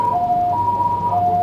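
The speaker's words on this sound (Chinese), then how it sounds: "救护车开到彰化花坛火车站前，让坐在站前护栏上的男子躺上担架送往医院" An ambulance siren wails loud and close in front of a train station in Changhua, Taiwan, alternating between two pitches several times before it cuts off abruptly.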